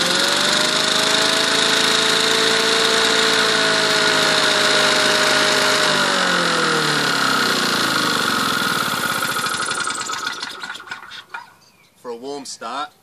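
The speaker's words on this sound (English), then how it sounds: "take hold of the starter, engage it into the motor and give it a gentle pull" A Victa two-stroke lawn mower engine running loud and close with a steady buzzing drone, then winding down and cutting out near the end, followed by brief talking.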